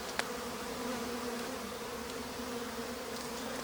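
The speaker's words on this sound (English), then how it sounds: "the bees are still active inside the hessian that we left there to keep them warm" Honey bees hum steadily at a hive tucked in hessian inside a large storm-felled tree, a continuous low buzz at moderate volume with a brief click near the start.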